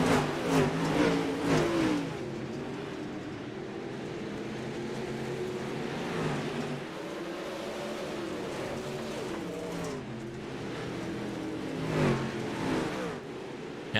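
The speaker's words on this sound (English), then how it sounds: "green flag is out. These drivers step on the loud pedals" Dirt race cars in iRacing at Cedar Lake Speedway revving and accelerating off the green flag, a layered roar of several engines rising and falling in pitch, loud and close throughout.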